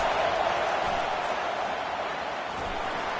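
A home crowd roars steadily at a football game, a dense, continuous wall of cheering that stays loud and even throughout without letting up.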